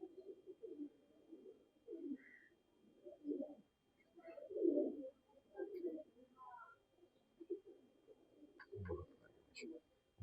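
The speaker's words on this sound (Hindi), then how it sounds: "बड़ा कबूतर आ गए और बड़ा ही आउट क्लास कबूतर आपको दिखाने लगे हैं" Pigeons coo softly in repeated low throaty phrases nearby, with a few brief higher chirps and a short thump near the end, fairly quiet overall.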